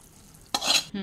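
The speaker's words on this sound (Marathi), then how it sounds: "याला सगळं एकत्र करून घ्यायचं आता।" Melted jaggery and ghee are stirred into a khapli wheat churma laddu mixture, giving a brief scraping stir followed by a short second scrape, close and without talk.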